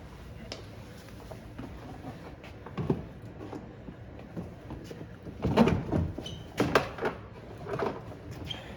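A Ford F-350 truck door is handled during a side mirror replacement, giving scattered knocks, clunks and rattles of the door panel, a couple of louder bumps near the middle and end, over a quiet background.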